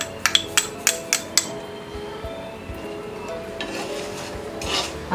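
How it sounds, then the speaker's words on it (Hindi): Carom seeds and dry basil leaves roasting in a pan over a low flame, with a quick run of sharp metallic taps and clinks early on, then a soft steady rustle and faint scraping. "हम सारे इंग्रेडिएंट्स को लो फ्लेम में रोस्ट करेंगे।"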